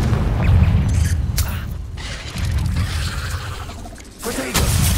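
A Confringo blasting spell cast in a Harry Potter video game: booming, whooshing explosive bursts with crackling debris over dense rumbling background, loud and close, with a brief dip before another blast near the end.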